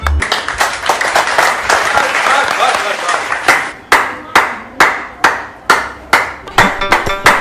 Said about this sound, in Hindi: हमारी पुलिस की टीम को तो ताली बजाइए सबके लिए।